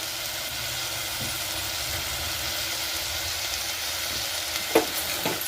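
Fresh green peas sizzle and fry steadily in a hot pan while a tomato bath cooks, a continuous close crackle with a brief clink of the spoon near the end.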